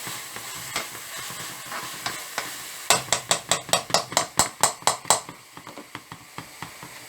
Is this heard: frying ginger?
yes